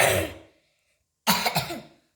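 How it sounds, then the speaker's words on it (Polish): Two rough coughs from one person, a short burst, a pause of about a second, then a longer, slightly broken cough, close to the microphone with no talking. "przepraszam, kaszel mam"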